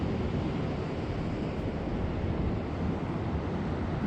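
Steady broadband wash of ocean surf off a beach village at Hatteras, heard from a deck, mixed with wind noise and continuous throughout with no clear individual wave breaks.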